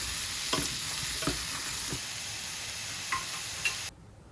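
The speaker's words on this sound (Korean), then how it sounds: "조금 더 볶아주세요" Oatmeal doenjang porridge stir-fries in a pan with a steady, close sizzle and occasional soft scrapes of stirring, before the frying stops abruptly.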